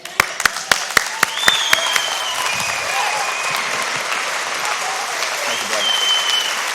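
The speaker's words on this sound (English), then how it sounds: "I think we owe him a standing ovation." A standing ovation at a 25th anniversary event: a few sharp single claps open into sustained dense applause from a large crowd, steady and loud throughout.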